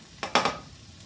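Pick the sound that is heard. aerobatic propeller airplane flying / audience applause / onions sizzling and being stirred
onions sizzling and being stirred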